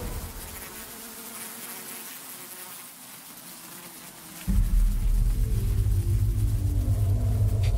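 Dense insect buzzing of many bees, droning steadily, then joined by a louder low rumble that swells suddenly midway and continues to the end.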